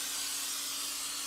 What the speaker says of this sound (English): First thing I'm going to do is spray this pan